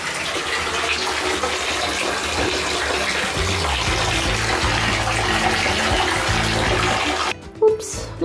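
Water pours steadily into a small toy doll bathtub, a continuous splashing gush that runs for several seconds before cutting off near the end.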